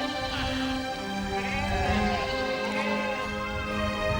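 Sheep bleat repeatedly at a middle distance over a steady harmonic drone of background music, the calls overlapping in a loose, irregular rhythm throughout.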